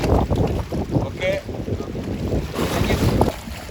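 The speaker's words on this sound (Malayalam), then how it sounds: "കടലിൻ്റെ ആരവം വല്ലാത്തൊരു ആരവമായിരുന്നു കേട്ടോ. ഇന്ന് നല്ല കാറ്റും ഉണ്ടായിരുന്നു." Strong wind and rough sea roar around a fishing boat out on the Saudi sea, a continuous broadband rush with gusting swells and faint knocks, loud and close throughout.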